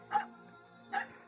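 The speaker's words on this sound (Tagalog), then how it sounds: "Oh, nagalit yung aso." A dog barks twice, sharp and angry, about a second apart, close and fairly loud over a quiet background hum.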